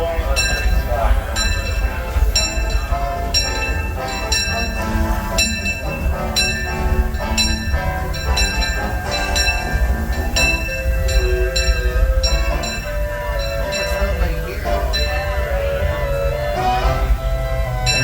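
A Disneyland Railroad train rolls into Main Street Station, its steady rumble under repeated clanging bell strikes and metallic clinks, with voices faintly present.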